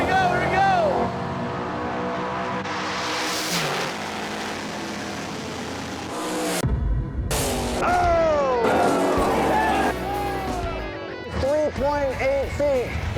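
Mopar and Chevy drag race cars roar down the strip nose to nose in an all-out final, loud engine noise with passing surges and a sharp crash-like burst, while an announcer and excited voices talk over it.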